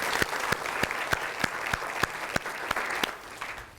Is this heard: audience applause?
yes